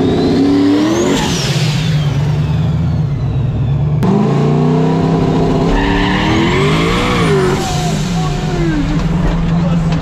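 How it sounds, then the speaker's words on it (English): A race car on slick tires launches on a wet surface with aggressive RPM and boost, the engine roaring close up as the tires spin and squeal, a second revving surge following midway, with voices talking underneath. "Now that's how you launch a car."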